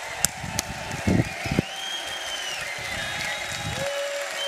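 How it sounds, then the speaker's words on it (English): A crowd at a tech company event gives a standing ovation for the CTO: dense, sustained applause fills the whole stretch, with a few sharper claps and crowd noise near the start. "Everybody standing round of ovation."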